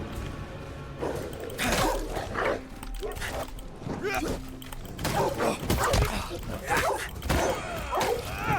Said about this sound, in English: I suppose I can't banish these dogs, because they're not dead